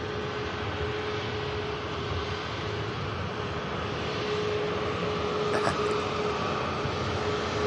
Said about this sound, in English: And this Ryanair taxiing past us